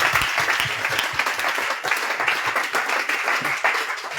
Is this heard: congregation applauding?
yes